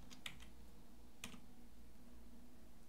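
A number is typed on a computer keyboard in a quiet room, with a few light, scattered key clicks.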